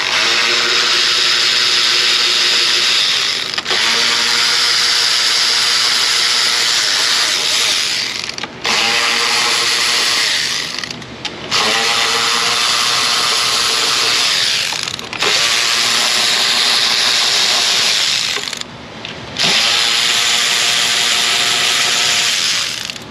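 A power tool spins out the 8mm bolts holding the intake manifold to the lower intake on a Chrysler 200 with a 3.6 Pentastar V6, running loud and close in several long bursts separated by short pauses.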